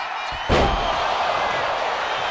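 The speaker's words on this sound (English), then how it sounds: "Getting choke slammed by the forehead." A wrestler takes a chokeslam in a wrestling video game, one heavy, loud slam impact followed by a broad sustained crowd-like roar.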